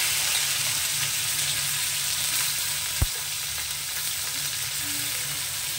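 Bitter gourd pieces fry in hot mustard oil with a steady, close sizzling crackle, interrupted once by a single sharp knock of a utensil against the pan.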